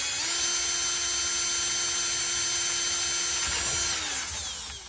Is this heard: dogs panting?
no